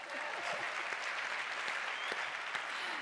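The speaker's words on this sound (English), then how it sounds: "they deserve a round of applause" Audience applause at a conversation event with Olympic athletes Carl Lewis and Marie-José Perec, steady clapping throughout, moderately distant and fairly faint, with no talk over it.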